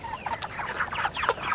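Chickens on a farm being readied for Hurricane Ian cluck and chatter in a busy, close flock, with overlapping calls at moderate loudness and no talking.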